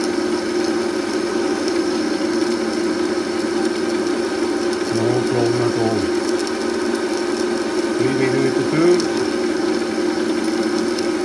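A Myford ML7 lathe with a block tool post takes a test cut, a steady mechanical whir of motor and gearing running continuously and fairly loud, with faint shifts in tone as the tool bites into the work.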